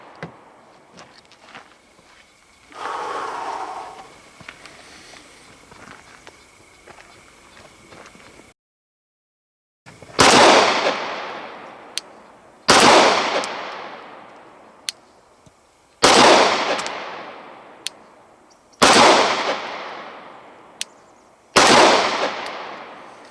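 Glock 19 Gen 4 pistol shots fired outdoors: six loud, sharp reports spaced a few seconds apart, each with a ringing decay, preceded by quieter handling noise and faint clicks.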